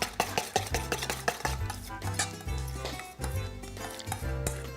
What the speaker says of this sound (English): First, the Parmesan. And we're going to mix that up.